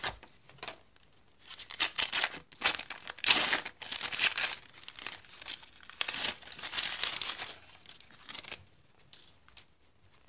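A paper-wrapped military field dressing is torn open and unwrapped up close, with bursts of crinkling and tearing paper that come in uneven clusters and short pauses.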